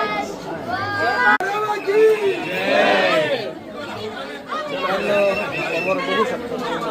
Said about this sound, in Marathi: प्रचंड गर्दी।